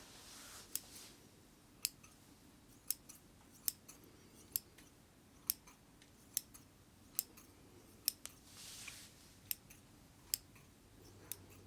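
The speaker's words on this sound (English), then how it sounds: "some gentle snipping sounds" Scissors make soft, gentle snips, about a dozen separate crisp clicks spaced roughly a second apart, close up against a very quiet background.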